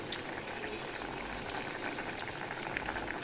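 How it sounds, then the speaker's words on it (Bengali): Chichinga (snake gourd) and bori curry with mustard bubbles in a pot, a soft steady simmering hiss with a few sharp pops, close and fairly quiet, no talking. "ফুটে গেছে, আমি নামিয়ে নেব।"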